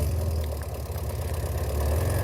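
A motorcycle engine idles with a steady low rumble and faint knocking pulses, close and continuous throughout.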